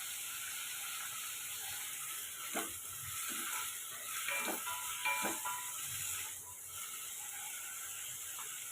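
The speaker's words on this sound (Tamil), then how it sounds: "உருளைக்கிழங்குக்கு தேவையான உப்பு சேர்த்து நம்ம வதக்கி விட்டுக்கலாம்" Potatoes with salt being sautéed in a pan, a steady hissing sizzle throughout with a few soft scraping and stirring knocks in the middle, no talking.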